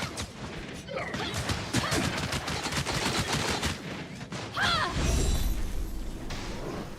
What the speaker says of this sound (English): let me shoot him up